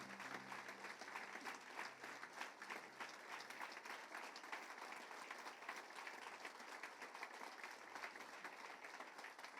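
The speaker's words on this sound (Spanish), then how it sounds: "Dale otro fuerte aplauso a Él." Steady, dense applause from a church congregation fills the space for nearly ten seconds, a continuous even wash of many hands clapping with no pauses.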